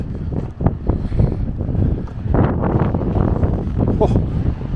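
Strong, steady wind buffets the microphone at a cold South Australian beach campsite, a continuous rumbling gusty roar with faint surf mixed in.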